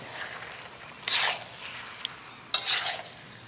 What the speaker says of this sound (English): I'm going to start stirring this up.